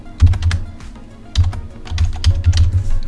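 Brisk, uneven clatter of keystrokes on a Logitech K480 Bluetooth keyboard, close and clear, with short pauses between quick runs of taps.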